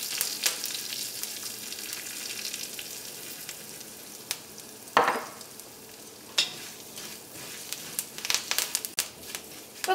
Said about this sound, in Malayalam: ഇപ്പോൾ കുരുമുളകും കറിവേപ്പിലയും എണ്ണയിൽ കിടന്ന് നന്നായിട്ട് മുരിഞ്ഞിട്ടുണ്ട്.